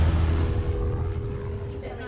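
A light aeroplane's engine drones steadily in flight, a low continuous hum heard from inside, loud at first and easing slightly, with speech mixed in.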